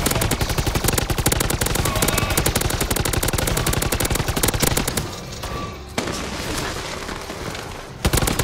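Loud rapid automatic gunfire from a Modern Warfare 3 Zombies game, a dense continuous burst for about five seconds, then scattered quieter shots and a final sharp burst.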